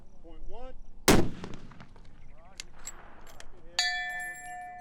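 A single loud, sharp rifle shot from a military-issue M99 Barrett fired in a long-range shooting competition, cracking close and decaying quickly, with faint speech before it and a ringing metallic ping later.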